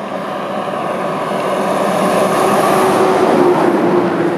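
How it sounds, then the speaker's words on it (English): A big rig truck passes on a road in Lassen National Forest on a dry winter morning, a broad rushing roar that swells louder as it nears, with no talking. "Look at this big rig, man."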